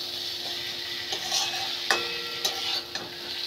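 Tangra fish with spices sizzle in a pan while a spatula stirs them, making a steady frying hiss with a few scattered scrapes and knocks, close and moderately quiet.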